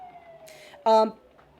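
An emergency vehicle siren wails faintly outside, one steady gliding tone, briefly covered by a short loud vocal sound.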